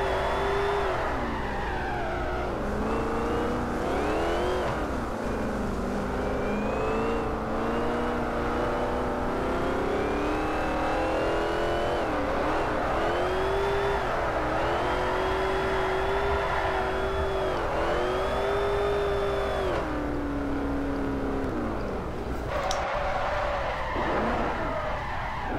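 Drift race cars, a Mustang and a GTO, in the Virtual Formula Drift video game at the Streets of Long Beach, with engines revving and wailing steadily and tires screeching throughout, loud and continuous with shifting pitch as the cars slide through corners.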